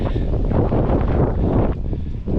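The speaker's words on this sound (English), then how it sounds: "It's getting a bit windy here. Microphone might be getting blown a bit." Steady low rumbling buffeting of wind hitting a microphone outdoors at Melville Castle, loud and continuous throughout, with no talking.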